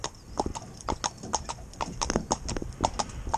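A horse's hooves clip-clop at a walk on firm ground, about a dozen crisp, evenly spaced strikes close by with a steady four-beat rhythm.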